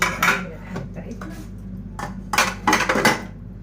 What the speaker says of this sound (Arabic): ونغسل بقى المواعين بتاعتنا عشان نبدا بقى يومنا